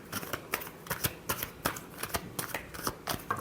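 Tarot cards are shuffled up close, a quick, uneven flurry of crisp riffling and slapping sounds with no talk.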